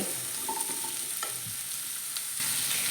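Pieces of pumpkin and prawn with a pinch of salt being stirred in an oily pan, a soft continuous sizzle broken by a few light scraping strokes of a spoon, close by with no talking.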